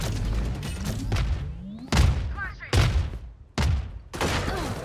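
Heavy gunfire in a competitive video game match comes in a few loud, separate bursts of booming shots, with short quieter gaps between each volley.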